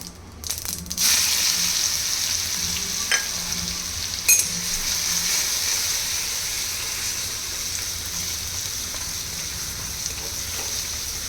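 Mustard seeds, a little cumin and finely ground garlic-chili paste fry in hot oil for a Khandeshi dish, giving a loud continuous sizzle with occasional crackles and stirring knocks and no speech.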